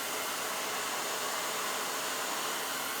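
Handheld hair dryer on its cool setting during a round brush blow-dry, blowing as a steady, even broadband rush with no pauses.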